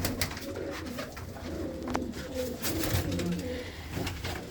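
Pigeons coo continuously in a breeder's loft, several low rolling calls overlapping at close range, with a faint voice now and then in the background.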